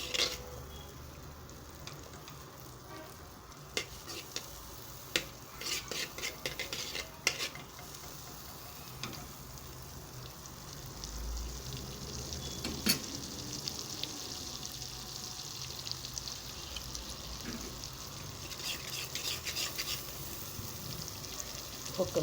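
Butter sizzling in a pan as white rice is started, a steady low frying hiss with occasional stirring and utensil clinks against the pot, fairly close and moderate in level.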